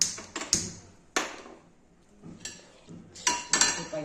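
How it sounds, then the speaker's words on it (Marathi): A metal pan set down on a gas stove, heard as several close clanks and clinks of metal on the burner grate, spaced irregularly in an otherwise quiet kitchen. "तर आता हे पॅन आपण गॅसवर ठेवून घेऊया।"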